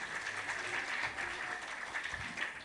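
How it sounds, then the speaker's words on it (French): Steady applause from an audience at a children's art performance event, a dense continuous clatter of clapping hands with no pauses, fairly loud and evenly sustained throughout. "Encore des acclamations s'il vous plaît."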